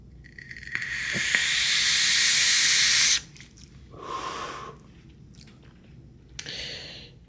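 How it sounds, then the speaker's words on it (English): A close, loud, steady hiss from a Voltrove Mini RBA with Pendulum coils as a long draw is taken. It holds for about two and a half seconds, then cuts off, followed by softer breathy puffs of exhaling. "Yeah, vaping pretty good. Now it's not crackling."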